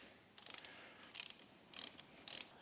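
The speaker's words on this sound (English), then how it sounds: "Just get it started with the socket." A socket wrench ratchet clicks in short bursts, four quick runs of rapid pawl clicks separated by pauses, while it tightens a crash protection bolt on a Ducati Desert X motorcycle. Quiet and close, with no talking.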